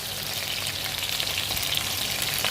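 Oxtails sear in a crowded pan over medium-high heat, giving a steady, dense sizzle with crackling hiss that holds evenly throughout, close and loud with no talking.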